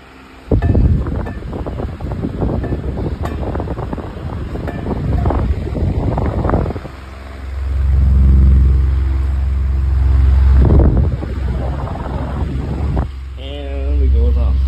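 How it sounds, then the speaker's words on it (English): A 16-inch pedestal fan with a warping blade runs while oscillating, giving a loud steady airy whoosh with low rumbling swells, and someone talks over it. "Yeah, that blade is warping like crazy."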